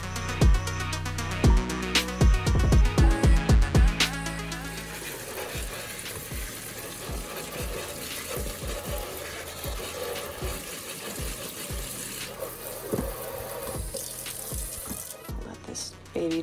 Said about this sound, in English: So we need to water him.